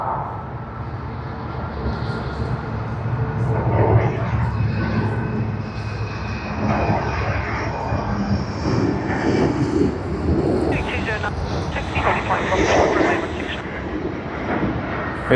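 A jet airliner departing Sydney Airport, its engines producing a broad, steady roar that holds for the whole stretch and swells slightly at times, with faint voices underneath.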